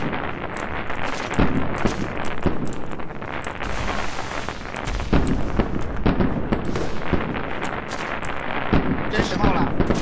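Cannons blast repeatedly in the video game ARK: Survival Evolved during a lava golem dungeon fight, a dense run of loud booming shots with voices talking over them.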